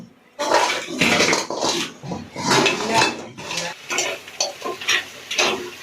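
Food cooking in a pot during a group outing in Purulia: loud, continuous clatter of metal utensils stirring and scraping against cookware, with uneven bursts of clanking throughout.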